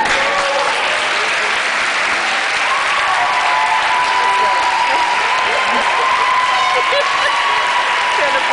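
Graduation ceremony audience applauding steadily throughout, a dense wash of clapping with crowd murmur and some voices mixed in.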